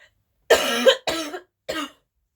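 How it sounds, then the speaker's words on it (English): Three separate chesty coughs from a person with a bad chest, the first longer and harsher, each followed by silence, close to the listener. "Really sorry about this cough."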